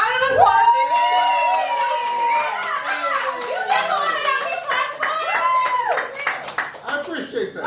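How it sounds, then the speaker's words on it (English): A poetry-night audience at a theatre gives a round of applause, with claps, whoops and cheering mixed under loud, excited talking and a voice speaking over the crowd near the mic. "Round of applause, baby!"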